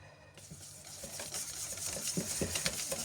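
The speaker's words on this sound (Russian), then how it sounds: "Хочу обойтись сейчас без электрического миксера. Взбиваю масло" Softened butter is whisked by hand in a bowl, with rapid, scratchy rhythmic strokes and light clinking that grow louder and busier over a few seconds.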